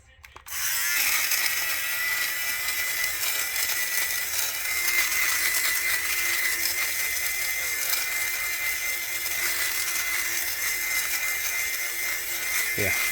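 An electric fabric shaver runs over pants to remove lint. After a click at switch-on it gives a continuous high, buzzing whir, close and steady throughout, with faint scraping of the blades across cloth.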